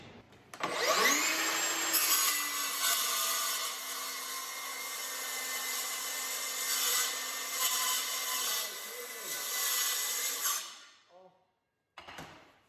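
A saw cuts through 10mm aluminium plate with a loud, sustained, harsh rasp for roughly ten seconds, the pitch wavering slightly as the plate shifts, then stops, followed by a brief clatter.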